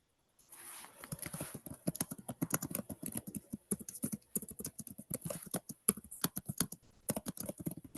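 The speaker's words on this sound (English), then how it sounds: "You're typing." Rapid typing on a computer keyboard, close and fairly quiet, with irregular bursts of clicky keystrokes and brief pauses, alone without speech.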